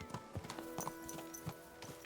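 Horse hooves clip-clopping in Kingdom Come: Deliverance II, a steady run of distinct close hoofbeats with an occasional soft snort, no talk over them.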